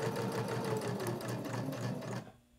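A sewing machine stitches steadily around the edge of a small fabric soap holder. Its rapid, even mechanical whirr and needle clatter sound close and continuous, then cut off abruptly near the end.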